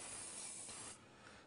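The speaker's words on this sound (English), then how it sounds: "we'll take a stainless steel bowl here, and we'll spray" Pam cooking spray hisses into a stainless steel bowl in one steady, close aerosol burst that eases slightly near the end.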